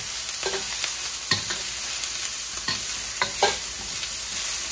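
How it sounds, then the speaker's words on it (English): Shallots and garlic frying in a smoking pan for egg fried rice, a constant hiss of sizzling oil with occasional scrapes and taps from stirring, near and fairly loud with no talk. "you throw your shallots and your garlic in there first, let them get going a bit"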